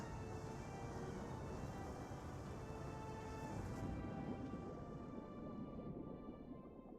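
Huge rushing splash and wave from a giant whale diving into water in Final Fantasy XIV, a broad, continuous roar of churning water that holds steady throughout and tapers slightly at the end, with no talking.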